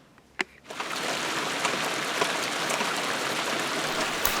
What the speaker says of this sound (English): just showing the rain on the water.